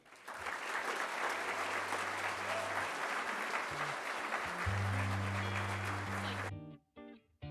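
Audience applause at a Detroit Economic Club event welcoming Senator Alyssa Slotkin and Roop Raj: dense, steady clapping across the room for several seconds, then cutting off abruptly to near quiet.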